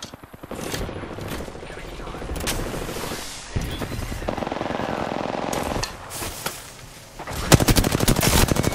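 Gunfire in Apex Legends, with rapid automatic bursts and heavy battle noise running continuously, peaking in sharp cracks near the end.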